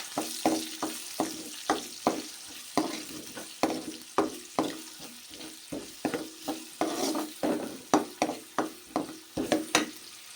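Cumin, mustard seeds, curry leaves and chopped onion fry in hot oil for a gongura pachadi tempering, with a spoon clacking rhythmically against the pan over a continuous sizzle, close and fairly loud.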